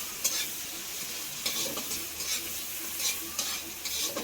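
Jackfruit seeds crackle in hot oil in a pan while being stirred, with a steady sizzle punctuated by periodic scraping bursts of the spatula.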